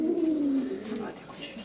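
A racing pigeon, a three-year-old marathon-distance cock bird, coos close by in a low, wavering voice, one drawn-out call that sinks slightly in pitch and fades.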